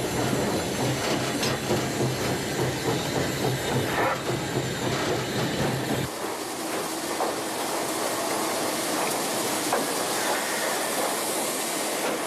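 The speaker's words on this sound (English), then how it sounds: "you can drive the train back and forth for 200 meters" Steam locomotive run back and forth along a short stretch of track at a steam festival in China, giving a steady rolling rumble with wheel squeal and rail clatter and a hiss that brightens halfway through, with no talk.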